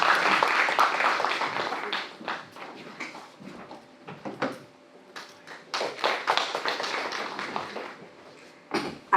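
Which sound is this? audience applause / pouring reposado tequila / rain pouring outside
audience applause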